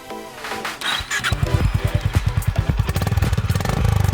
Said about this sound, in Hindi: एग्जॉस्ट नोट से शानदार आवाज निकलती है